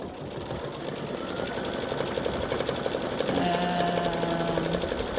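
An embroidery machine runs a line of top stitching over a satin stitch, a steady close mechanical whir with rapid needle pulsing and a faint tonal hum, with no voices.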